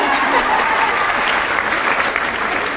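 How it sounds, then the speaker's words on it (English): Steady, dense audience applause fills the whole short stretch, a continuous wash of many hands clapping at even loudness. "you all can clap."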